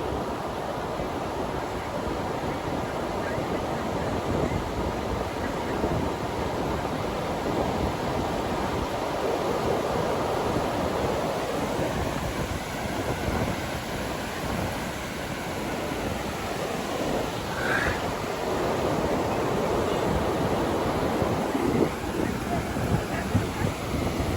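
Sea waves wash up the shore at New Brighton beach, a steady broad rush of surf mixed with gusting wind buffeting the microphone, continuous and fairly loud throughout with no talking.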